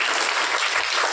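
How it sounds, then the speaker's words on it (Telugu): A church congregation at an Easter service claps together in a short, even burst of applause, dense and fairly loud, with no talk over it. "చప్పట్లు కొట్టి"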